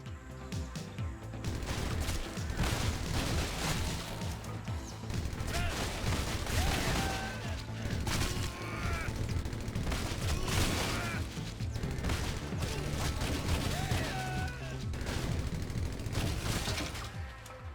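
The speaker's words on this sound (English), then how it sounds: "One in particular that I really enjoyed was the Gatling gun section." Gatling gun firing in the video game God's Trigger, a loud, sustained barrage of rapid gunfire with heavy booms layered over a dense music-and-effects bed, staying intense for nearly the whole stretch with no talk.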